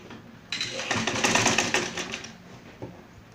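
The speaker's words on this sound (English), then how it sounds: "you're going to be top stitching on the lining with a 1/4 inch like this" A sewing machine runs steadily, top stitching a quarter-inch line along the lining of a six-piece bustier blouse, its fast even whir rising and falling slightly, close and alone with no talking.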